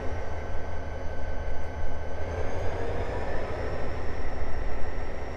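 Steady rumbling drone of an SD40T-2 diesel locomotive running in the Train Simulator 2014 game, a continuous low engine and rail hum with faint tonal whine, moderately loud and alone throughout.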